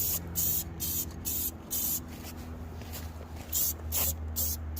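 Clear coat sprayed onto a boat trailer from a spray gun in bursts, a loud airy hiss starting and stopping about every second over a steady low hum.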